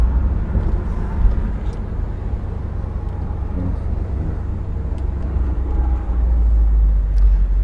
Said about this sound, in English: Drives like a Cadillac